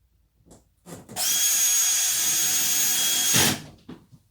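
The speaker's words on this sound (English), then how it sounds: "I'm screwing it in on purpose because" A power drill drives a screw through Perspex into a window frame, with a loud, steady whine lasting about two seconds up close, bracketed by faint handling noises before and after.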